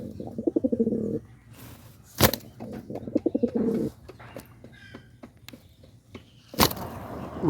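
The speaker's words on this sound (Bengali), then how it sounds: "এখানে লাহোরি কবুতর আছে লাহোরি কবুতর" Lahori pigeons give two runs of pulsing, throbbing coos up close, with sharp wing flaps bursting in between and a quieter stretch of faint calls.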